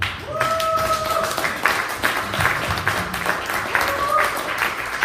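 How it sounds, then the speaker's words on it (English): A standing audience gives Manny Wolf a round of applause, with scattered claps and cheering blending into a steady crowd wash while voices call out over the top. "give a round of applause to Mr."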